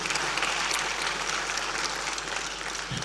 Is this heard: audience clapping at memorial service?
yes